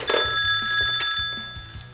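A telephone rings close by with a repeated electronic trill, two short bursts in quick succession over a quiet background.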